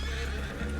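A horse in the video game Red Dead Redemption 2 lets out a close, loud whinny together with hoof clip-clops in a short burst.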